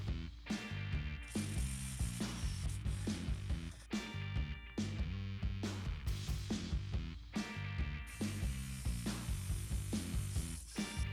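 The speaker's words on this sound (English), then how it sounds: "It's finally time to remove the bolts that secure the upper intake." A ratchet loosens the 8mm and 10mm upper intake bolts on a 1998 Firebird's 3800 V6, giving rapid, close clicking bursts that repeat for about eleven seconds over a steady tonal background.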